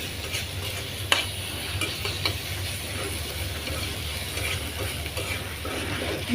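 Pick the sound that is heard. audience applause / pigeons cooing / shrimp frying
shrimp frying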